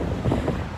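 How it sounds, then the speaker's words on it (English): Strong wind buffets the microphone outdoors on a cold night, a brief rough low rumble that swells slightly near the end. "Oh my god, it is so windy out."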